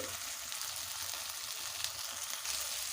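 Spice paste for a Bengali katla kalia (rohu fish curry) fries in oil in a pan with a steady, dense sizzle and faint scraping of stirring throughout, close and fairly quiet, with no talking.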